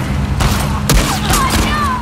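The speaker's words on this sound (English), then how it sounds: "I've shot both of them at least once in the head each" Gunfire in The Last of Us Part 2: a quick run of several sharp shots spread across a couple of seconds, loud and close, over a steady low game rumble.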